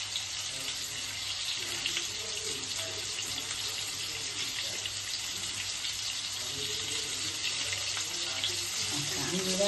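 Water poured into a pan of fish curry with ridge gourd, giving a steady, hissing sizzle and gurgle that carries on evenly throughout, fairly close but not loud.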